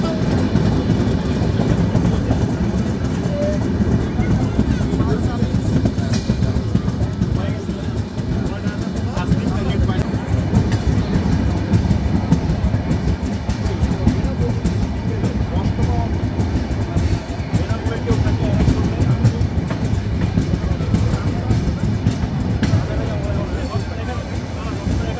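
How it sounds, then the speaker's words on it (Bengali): The Rupasi Bangla Express rolls into Kashiani Junction station, a continuous heavy rumble of carriages and wheels with faint chatter of passengers mixed underneath. "প্রবেশ করছি ট্রেনটির দ্বিতীয় গন্তব্য স্টেশন কাশিয়ানী জংশন স্টেশনে"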